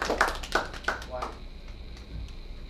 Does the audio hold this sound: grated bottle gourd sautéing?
no